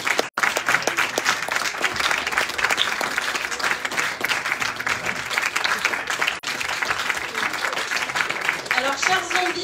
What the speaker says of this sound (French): Ça y est, vous pouvez applaudir notre troupeau de zombies.